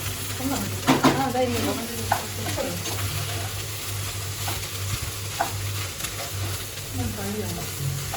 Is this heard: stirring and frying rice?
yes